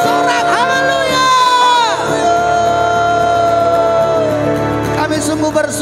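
A church congregation at a GBI worship service shouts hallelujah together in loud, sustained cheering that swells and holds, then fades slightly near the end, with musical tones underneath.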